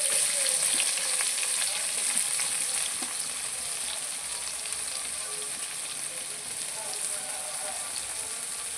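Chopped onion fries in hot mustard oil with cumin and bay leaf, giving a steady, dense sizzle that continues evenly throughout at close range.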